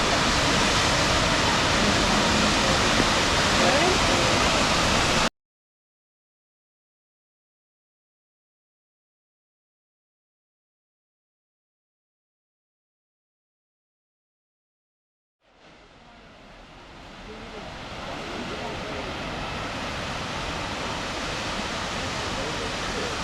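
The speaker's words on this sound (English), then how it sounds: "The beautiful Hwy Falls, one of 3 main waterfalls in DuPont State Park." Hwy Falls, a waterfall in DuPont State Park, pours with a loud, steady broadband rush up close, cuts out entirely for about ten seconds, then swells back into the same continuous roar.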